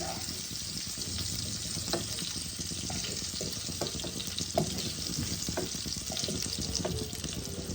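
Pointed gourd pieces fry in hot oil for a fish curry, a steady close sizzle with occasional stirring clicks and scrapes throughout.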